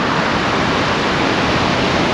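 Truckee River water rushes in a steady, close broadband roar, continuous and unbroken, with no voices over it.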